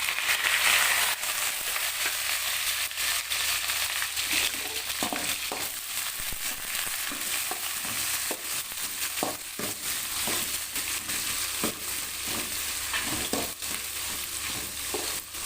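Two large onions, sliced into thin strips, frying in a pan, a continuous close sizzle with frequent stirring scrapes and small crackles, no voices.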